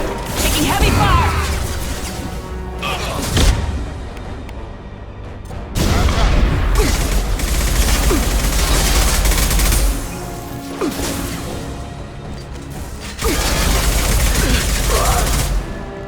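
Heavy gunfire rages in Mass Effect 2, with dense, loud bursts of shooting and impacts that surge and ease in waves, while voices are heard intermittently through the firefight.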